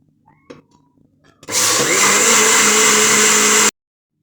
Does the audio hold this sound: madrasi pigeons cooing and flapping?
no